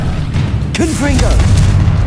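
A Confringo blasting spell bursts in a Hogwarts Legacy duel, a short booming impact under dense game music and combat noise, with a voice crying out briefly across it.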